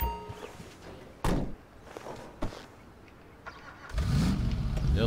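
A Lincoln car in the game GTA 5 gets a door thunk and a couple of sharp clunks, then its engine starts and idles with a loud rumble at the end.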